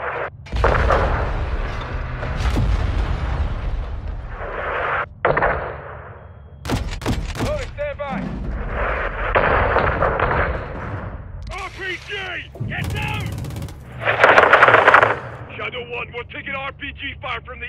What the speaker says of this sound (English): RPG fire from the east.